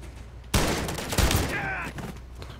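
Gunfire in the Call of Duty: Modern Warfare III campaign, a sudden loud burst of rapid shots followed by a second heavy blast, trailing into echoing reverberation and a brief squad voice.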